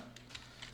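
Faint typing on a computer keyboard while a Java program is being written, a handful of soft plastic key clicks ending with a press of the Enter key, heard over a low steady room hum.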